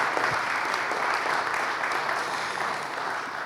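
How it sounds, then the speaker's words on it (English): An audience at a racial justice grant event claps steadily for a nursing association leader receiving a grant, the applause moderately loud and fading slightly toward the end. "give her a clap"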